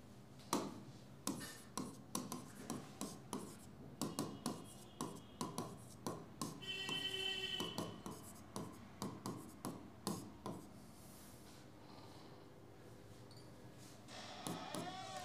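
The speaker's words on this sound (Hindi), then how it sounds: "थोड़ा सा इधर लिखते हैं" A pen writes out a geometry formula in a maths lesson: a quick series of short scratchy strokes and taps, faint and close, with a brief squeaky scribble in the middle and a pause before more strokes near the end.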